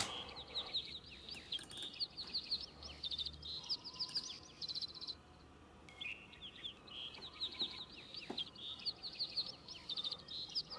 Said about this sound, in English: I got a sample of birds and just repitched it